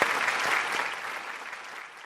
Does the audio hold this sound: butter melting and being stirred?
no